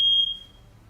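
A fire alarm sounds one loud, piercing high beep that cuts off abruptly, leaving a faint room hum behind it.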